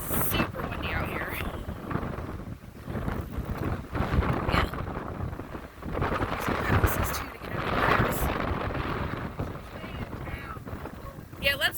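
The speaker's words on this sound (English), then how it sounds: "Sorry about the wind, guys. It's super windy out here." Heavy gusting wind pounds a microphone outdoors on a cold, windy ride around a village, a loud low roar that rises and falls in surges, with someone talking through it.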